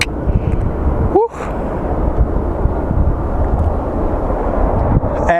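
A plane lands at Phoenix Sky Harbor airport, its loud, steady jet roar filling the whole stretch from fairly close, with a brief sharp dip in the noise partway through and no clear talking over it.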